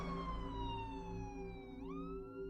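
An ambulance siren wails steadily and loudly, with a descending tone that sweeps back upward near the end, heard alone without speech.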